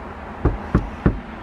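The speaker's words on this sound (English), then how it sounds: "let's knock on the door" Three sharp knocks on a front door, evenly spaced and close by, against a quiet outdoor background.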